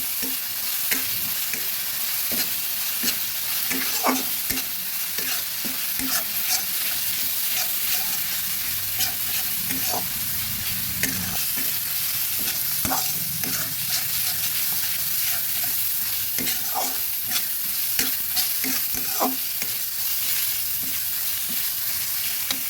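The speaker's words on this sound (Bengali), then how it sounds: "ভালোভাবে মশলাগুলো ভেজে নিচ্ছি।" Onion, garlic and ginger paste with spices fries in a pan for a katla fish curry, a steady close sizzle broken by repeated scraping stirs throughout, with no talking.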